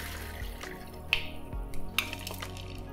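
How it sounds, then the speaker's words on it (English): Water drained off cooled chicken feet, with soft pouring and dripping, a few light splashes and clinks close by, and no talking. "Let's drain that water."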